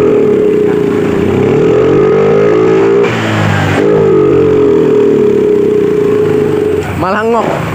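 Honda Vario 125 scooter engine revved hard, its tone climbing and holding with a rough stutter at high RPM, cutting out briefly midway, then rising again before dropping off; someone talks over it.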